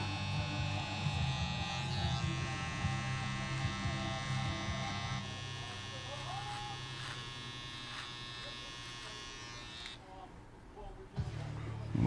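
An electric trimmer buzzes steadily while cleaning up a low fade haircut in a barbershop, close and continuous, with faint talk underneath and the hum thinning near the end.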